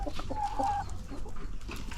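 Chickens cluck softly in a poultry house during a routine morning inspection, a steady low flock murmur with one brief clearer call standing out near the start, no voices.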